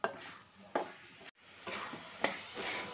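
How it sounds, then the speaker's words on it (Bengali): A sticky sweet naru mixture with chopped raisins stirred slowly in a pan, soft scraping strokes and a faint sizzle, close and quiet, with a brief pause midway; no voices. "এবার বেশ কিছুক্ষণ একটানা এভাবে ধীরে ধীরে নাড়তে থাকতে হবে"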